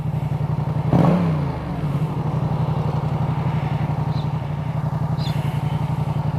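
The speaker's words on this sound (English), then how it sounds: "Listen to that engine." A motorcycle engine on a ride around Sydney, Australia, is heard up close with a steady throbbing idle, a sharp rev blip near the start, then continuous low pulsing.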